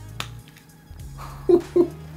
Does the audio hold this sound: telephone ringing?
no